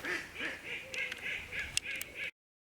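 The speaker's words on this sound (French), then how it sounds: "Voilà les petits canards qui ont bien grandi" Rapid, repeated quacking from a small group of young ducks, close and fairly loud, in a steady bubbling rhythm that stops abruptly.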